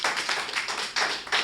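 A Hindi poetry recital audience claps in quick, dense bursts of applause, close and lively, with brief dips between waves.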